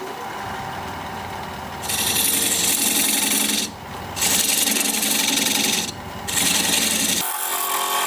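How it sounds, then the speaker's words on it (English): A recess tool cuts a dovetail into the side of a spinning wooden workpiece on a lathe, a loud continuous rasping scrape that swells and dips as the cut is repeated. "I'm going to use this recess tool to put a dovetail on the side here."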